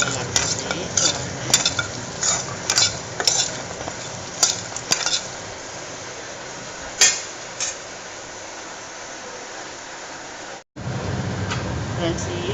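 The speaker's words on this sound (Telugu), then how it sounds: "ఇవి పనస గింజలు ఫ్రై చేస్తున్నాను" Jackfruit seeds frying in a pan of oil while being stirred, giving a steady sizzle under scattered scraping and clinking of a spoon against the pan, with a brief break near the end.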